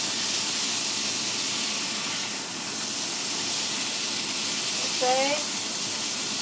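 Asparagus frying in a pan gives a steady broadband hiss and sizzle throughout, with a brief spoken word near the end.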